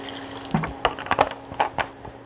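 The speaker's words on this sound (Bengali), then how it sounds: "জল আমি এখানে এক কাপের মতো জল দিচ্ছি" About a cup of water poured into a cooking pan of oats pav bhaji, a brief close splash and gurgle in a few uneven pulses, no talk.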